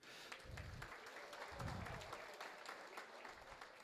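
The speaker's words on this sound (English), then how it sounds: "I'm going to invite you to applaud yourselves for coming out tonight" An audience at a charity dance gala applauds itself, steady clapping throughout with a few louder low thumps and a faint murmur of voices.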